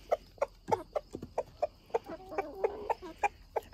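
Backyard chickens cluck in short, evenly spaced bursts close by, a dozen or so quick clucks over a couple of seconds with no talking.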